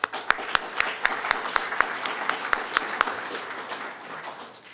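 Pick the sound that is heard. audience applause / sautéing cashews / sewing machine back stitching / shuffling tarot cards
audience applause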